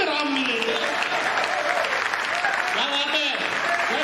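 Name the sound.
audience applause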